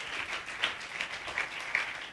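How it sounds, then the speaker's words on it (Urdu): A church congregation claps together to welcome visitors, a brief spell of dense, steady applause with a few sharper claps standing out, fairly close and without speech. "آپ سب بھی جتنے آئیے چرچ تالیاں بجا کر انہیں لیونگ برانچ چرچ میں ویلکم کرتے ہیں۔"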